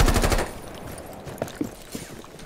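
A rapid burst of automatic gunfire in Rainbow Six Siege opens loudly, then fades into a few scattered, quieter shots and clatter.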